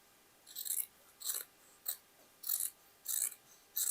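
Scissors snipping through fabric while cutting a jacket, six crisp separate cuts in an uneven rhythm, close and fairly quiet with no talk.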